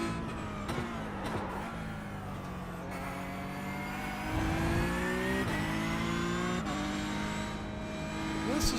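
A race car engine in the iRacing sim drones steadily under throttle, its pitch climbing and dipping with revs through gear changes, with a louder surge partway through. No one speaks.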